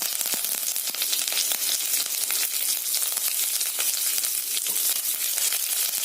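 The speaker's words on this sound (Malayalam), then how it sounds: "ഈ വെളിച്ചെണ്ണ ഇവിടെ ചൂടായിട്ടുണ്ട്. ഇതിലോട്ട് 1/2 ടീസ്പൂൺ കടുക് ഇട്ട് കൊടുക്കണം." Mustard seeds crackle and spit in hot coconut oil with dried red chili and curry leaves, a dense, steady sizzle packed with sharp pops from start to end, close and loud, with no voices.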